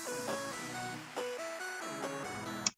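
Intro of an electronic song, a bright synth melody over sustained chords with a few accented hits, playing alone before cutting off abruptly.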